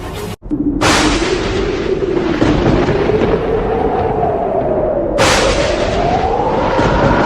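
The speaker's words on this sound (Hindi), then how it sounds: "ये काले बादल और ये तूफान" Loud rolling thunder in a storm, a sharp crack opening into a long sustained rumble that surges again near the end, with no voices.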